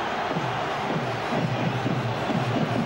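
Football stadium crowd at an England vs Germany World Cup 2002 qualifier, a steady broad roar of cheering and chanting that fills the clip at a constant level.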